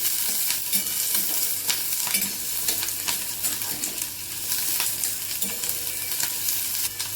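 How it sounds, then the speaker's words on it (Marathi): Onion sautés in hot oil in a kadhai, a close, continuous sizzle broken by repeated scraping stirs of a spoon against the pan, with no talking. "तेल तापलं की त्यामध्ये कांदा, आपण कांदा परतून घेणार आहे, हलकासा परतणार आहे एकदम।"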